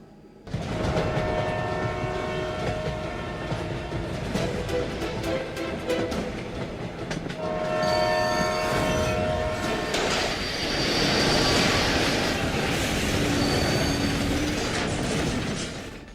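The Sealdah-bound Down Kanchenjunga Express passenger train rolls past on its rails with a loud, continuous rumble and clatter of wheels, and a sustained horn tone rings out over the noise.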